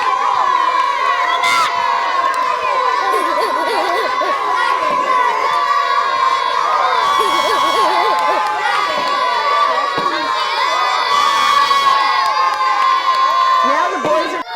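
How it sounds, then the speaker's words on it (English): A crowd of elementary school children on a dairy farm field trip cheers and shouts loudly and continuously as teammates shake jars of cream into butter, with excited voices and whoops rising in waves. "So cheer your teammate on."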